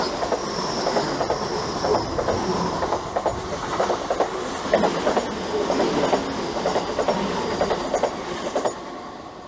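A train rolls past with rhythmic clickety-clack from the wheels and faint squeals, the sound dulling toward the end as it enters a tunnel.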